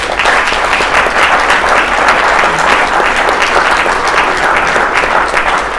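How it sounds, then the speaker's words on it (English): Steady, loud applause from an audience at a cybersecurity event, a continuous dense wash of clapping that holds level for several seconds with no voices on top. "Let's give them a big round of applause"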